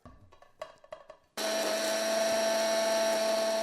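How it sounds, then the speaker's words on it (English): An electric grinder is loaded with salt, sugar and spices for a fried chicken seasoning mix: a few light clinks and taps, then the motor bursts on into a loud, steady high-pitched whir that runs to the end. "The ingredients are going into a grinder here, like this."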